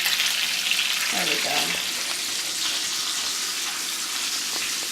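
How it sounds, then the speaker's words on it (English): Bacon sizzles steadily in a frying pan, a dense continuous crackle close up, with a brief spoken remark early on. "Sizzle, sizzle, sizzle with the bacon."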